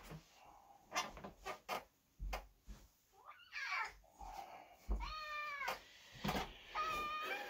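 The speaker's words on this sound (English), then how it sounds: "you probably heard him in the background" Cat meowing indoors, several drawn-out, wavering meows rising and falling, fairly close, mixed with scattered thumps and clicks of household movement.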